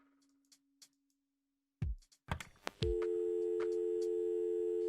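A steady repeating telephone busy tone plays in the Kathy Rain game after clicks and handset clatter from a dorm room phone, with a faint hum underneath and no talking.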